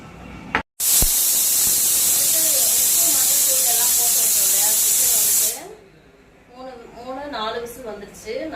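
A loud, continuous hiss of steam rushing from a pressure cooker whistle while cooking chicken for about five seconds, then it stops abruptly and a voice talks afterward.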